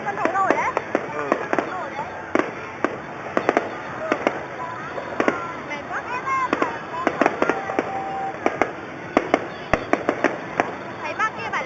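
Fireworks bursting at a Mid-Autumn festival by a lake with a floating stage, a steady run of sharp cracks and booms over crowd noise while people talk nearby.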